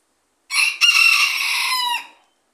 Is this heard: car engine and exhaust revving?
no